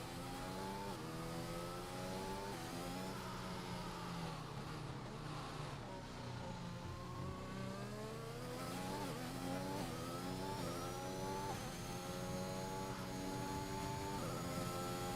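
A race car in an Xbox racing game laps a track, its engine whining through rising and falling gear changes, continuous and close, shifting down into corners and climbing again on the straights.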